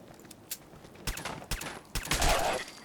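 Video game gunfire crackles in short bursts, distant sharp shots and a rapid volley building toward the end, fairly faint overall.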